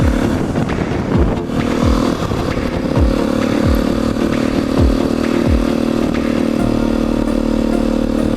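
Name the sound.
motorcycle riding on a road in Hong Kong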